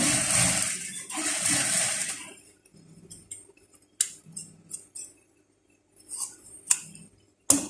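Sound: sewing machine stitching trouser waistband straight

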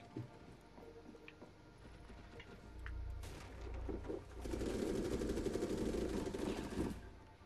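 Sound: gunfire in video game Rainbow Six Siege

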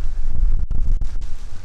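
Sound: wind blowing on trail

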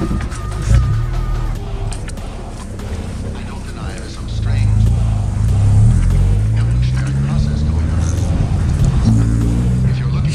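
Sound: Mazda car with new P5 exhaust driving

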